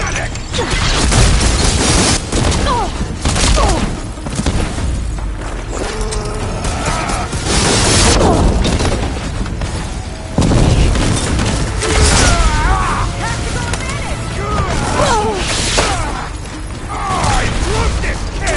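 Heavy cannon booms and mechanical clanks burst out repeatedly amid busy video game effects, with voices talking over the action.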